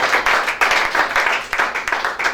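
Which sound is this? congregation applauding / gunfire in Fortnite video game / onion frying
congregation applauding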